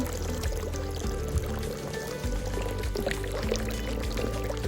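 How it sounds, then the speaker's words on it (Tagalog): Water pouring steadily from a spring-fed tap at a village of old wooden houses in Lauterbrunnen, Switzerland, a continuous close splashing stream with low rumble beneath. "Ay, ang ganda ng kuhanan ng tubig."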